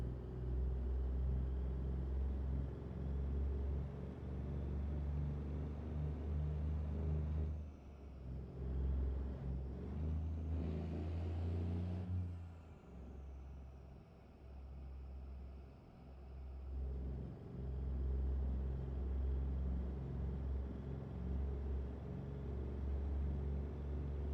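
Diesel truck engine in a trucking video game, a steady low rumble that swells and shifts as the throttle is worked, with a brief rise and drop in pitch midway before settling back to an even drone.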